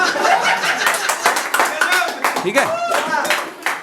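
An audience member claps during a live talk show event in Aligarh, sharp hand claps repeating through the clip under a man's ongoing speech with some chuckles.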